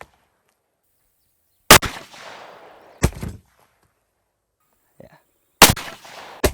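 Three sharp gunshots crack out in open air, loud and close, each with a brief echoing decay and long quiet gaps between them, plus a faint tap and a short spoken word.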